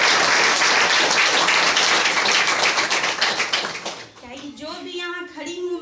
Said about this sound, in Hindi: चलिए उसके लिए एक बार जोरदार तालियां